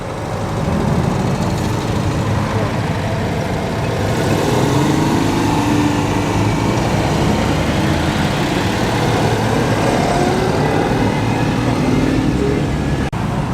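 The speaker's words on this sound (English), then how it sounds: "here are all the 2CVs departing en masse" A crowd of classic Citroën 2CV cars pulls away together on a Cheshire road run, a dense, continuous rumble of small engines with wavering tones passing close, and people talking underneath.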